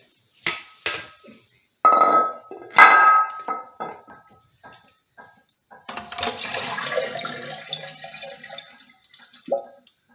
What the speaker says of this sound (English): it still sounds to me like I have a little water coming through